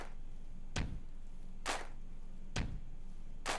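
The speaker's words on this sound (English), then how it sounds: "it kind of gives you that feeling that there's a lot of people stomping and then clapping" A layered stomp-and-clap effect in a produced drum part, evoking a crowd stomping and clapping: four evenly spaced bursts alternating a deep thud with a bright clap, over a faint steady background.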